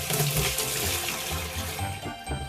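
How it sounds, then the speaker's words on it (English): Water being drained out of a tile saw's water tub, a steady close-up rush and slosh of liquid pouring, continuous for a few seconds without any talk. "Remove about half of the water from the water tub."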